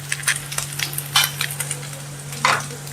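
Potatoes sautéing with turmeric in a pan for bread poha, with light sizzling and a series of scraping stirs and utensil clinks against the pan, fairly close, no talk.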